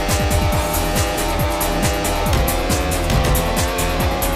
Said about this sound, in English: Acceleration. Tires.